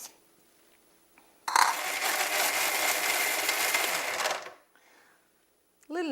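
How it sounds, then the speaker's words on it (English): A blender purees tomato chutney with lemon juice for about three seconds, a loud, dense whirring burst that starts abruptly and cuts off, with quiet moments on either side and a brief voice at the end. "Put it all together here in the blender."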